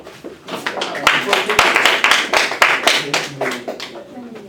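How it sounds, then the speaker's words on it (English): Students in a lecture on the Five Ways of St. Thomas Aquinas clap for a classmate named Amber, producing a short, uneven burst of hand claps close by, mixed with talking and laughter from the room. "Clap it up for Amber."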